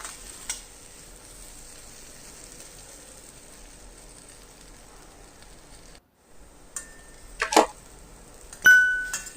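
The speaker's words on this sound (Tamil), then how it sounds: "உருளைக்கிழங்கு முக்கால்வாசி வெந்ததுனால உங்களுக்கு எந்த அளவுக்கு ரோஸ்ட் ஆகணுமோ அது வரைக்கும் மட்டும் நம்ம சிம்லேயே வச்சு ரோஸ்ட் பண்ணி எடுத்துக்கலாம்" Potatoes roasting on a low flame in a pan for a Tamil potato fry, a soft steady sizzle running throughout, followed near the end by a few sharp metallic clinks and scrapes of a utensil against the pan.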